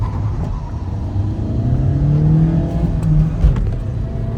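Diesel engines of a Hyundai i20 and a Suzuki Swift Dzire accelerate side by side in a drag race, their rising engine drone loud and close throughout, with a brief bump near the end.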